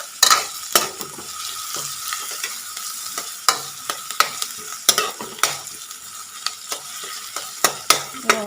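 Cumin and dried red chillies sizzle and fry in a pan, a steady close crackle broken by repeated sharp clinks and scrapes of a spoon stirring, with no talking.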